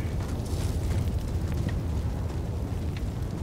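A steady, heavy roar and rumble of fire pours down from the sky in a video game, continuous and dense with no clear breaks.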